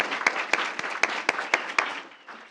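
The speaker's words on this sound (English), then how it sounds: "let's give them a full round of applause." A small group at a school board meeting claps in a loose, fairly regular rhythm, distinct sharp claps about every quarter second rising over a softer patter, then tapering off near the end.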